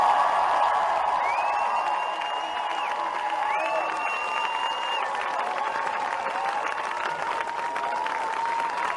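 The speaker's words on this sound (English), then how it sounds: "Let's give him a round of applause." A crowd applauds and cheers for Labour leader Jeremy Corbyn during a visit to Reading, with steady, dense clapping that fills the space and holds at an even level throughout.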